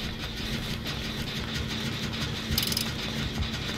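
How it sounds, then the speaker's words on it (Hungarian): A vehicle engine in a video game runs steadily with a mechanical, idling drone and faint rattling, holding at a constant level with a brief brighter burst near the end; no one speaks. "Hallom a motor"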